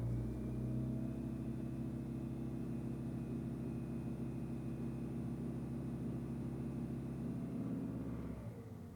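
Hybrid car engine held at full throttle, a steady loud drone with a sustained low hum that holds for about eight seconds, then drops off abruptly near the end.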